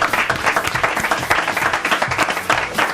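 Audience applause at a live Francophone television magazine show, a dense steady patter of many clapping hands, fairly near and sustained throughout.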